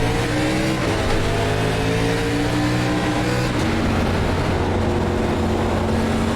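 In a racing video game, an ARCA Chevrolet Impala race car roars around Bristol Motor Speedway, its engine a loud, continuous drone that rises and falls in pitch as it revs and shifts gears, with no voices.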